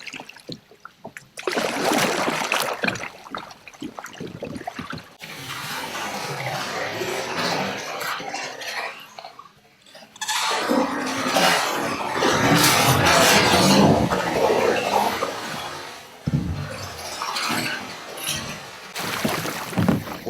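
A river kayak rolls over into chilly water, with close splashing, sloshing and paddle-stirred water that swells into sustained turbulent splashing, then trickling as it settles; no talk.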